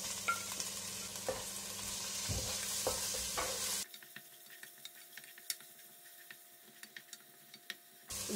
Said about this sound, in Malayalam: ഇതിലേക്ക് നമുക്ക് ചതച്ച് വെച്ചിരിക്കുന്ന ഉള്ളിയും വെളുത്തുള്ളിയും ചേർക്കാം.